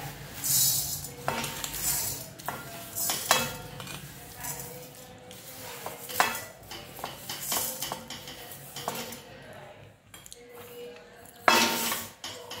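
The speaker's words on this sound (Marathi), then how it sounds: "ही डाळी भाजून घेऊया" Lentils dry-roasted in a pan for a chakli flour mix, stirred with a metal spoon that scrapes and clinks in repeated bursts against the pan, close and fairly loud, with no talking over it.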